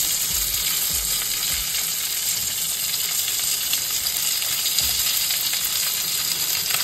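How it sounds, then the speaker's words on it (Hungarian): Ravioli parcels frying in a pan, seasoned with marjoram and garlic granules, give off a steady close sizzle and crackle with a few soft stirring bumps, and nobody talks. "Közben nagyon szépen sülnek a kis batyuk."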